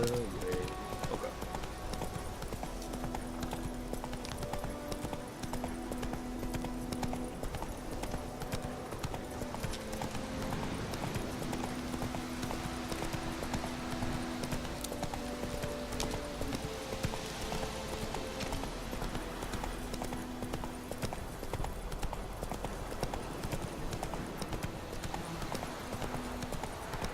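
Steady clip-clop of the horse Roach's hooves at a gallop in The Witcher 3, a continuous rhythmic patter under game music and background ambience, fairly quiet overall with no talking.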